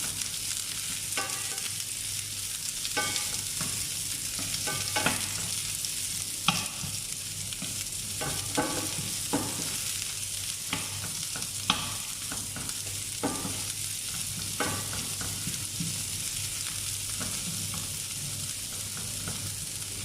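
Onion sautéing in a pan gives a continuous hiss of frying with a low hum underneath. A utensil strikes the pan in intermittent clicks and scrapes as it stirs, close and steady over twenty seconds, with no voice.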